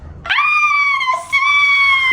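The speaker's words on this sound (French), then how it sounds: "Arrête de crier." A young child screams loudly and shrilly outdoors in falling snow, one sustained high-pitched cry with a brief dip in the middle before it carries on.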